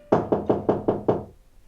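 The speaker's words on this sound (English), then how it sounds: "So she knocked again." Six evenly spaced knocks on a solid wooden door, close and crisp, followed by a brief quiet tail.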